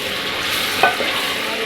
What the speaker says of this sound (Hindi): टमाटो फ्राई हो रहे हैं